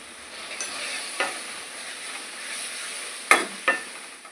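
Fenugreek leaves sauté in a pan with turmeric, a quiet, steady sizzle under scattered spoon scrapes, with two sharper clinks of the spoon near the end.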